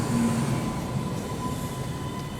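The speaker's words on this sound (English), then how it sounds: "The train just said good morning to you." Red line subway train rumbling in a station at morning, a steady loud low drone with a faint high wheel squeal running throughout, no voices.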